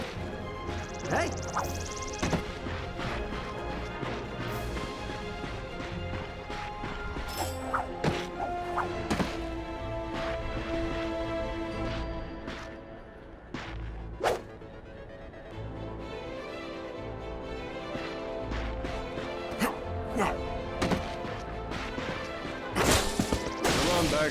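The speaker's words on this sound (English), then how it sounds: "Look at him smashing crates." Ratchet smashing wooden crates in the PS4 Ratchet and Clank video game. Repeated sharp cracks and thuds of breaking crates are scattered through busy game music and effects, with a character talking over parts of the sequence.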